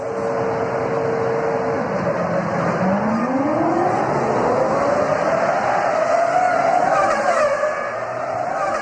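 Formula 1 race cars from the 2005 season scream past with high rising and falling engine whines and a Doppler sweep as one car climbs through the gears, loud and continuous.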